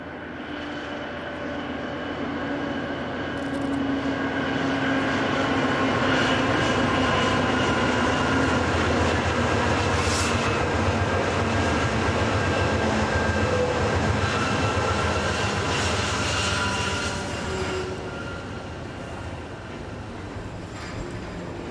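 A long freight stack train carrying time-sensitive cargo rolls past in open country about 200 miles from Las Vegas, a steady loud rumble and engine drone that swells mid-passage and eases toward the end, with no talk.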